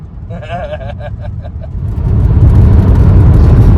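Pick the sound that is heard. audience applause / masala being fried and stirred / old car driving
old car driving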